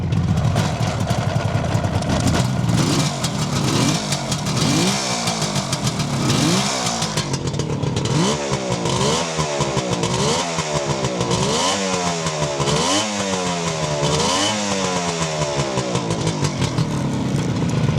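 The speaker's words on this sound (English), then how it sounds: "have warmed it up so we can give it a little rev." A loud 1976 Suzuki GT750 motorcycle engine idles roughly, then revs up and down repeatedly in quick, rhythmic bursts, close and continuous with no voices.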